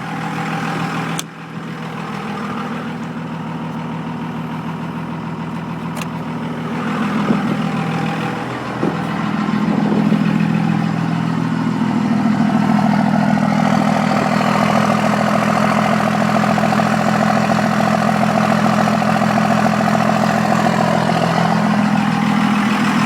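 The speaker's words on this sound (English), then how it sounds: "And that's my Cummins cold start." A 2002 Cummins diesel engine cold-starts with a short crank and catch, then settles into a loud, steady low idle whose rumble thickens slightly as it runs on, alone with no voices.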